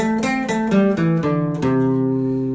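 Electric or acoustic guitar picks a five-note pentatonic scale step by step, each note ringing clearly in a steady sequence before a final held note, close and alone with no talking.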